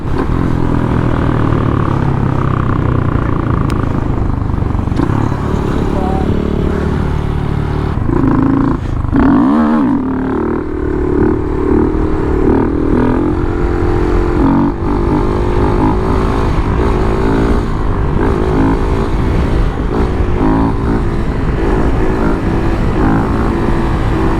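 A Honda Grom motorcycle engine revs hard and steadily throughout, loud and close, with throttle swells as the rider pulls wheelies; no voices.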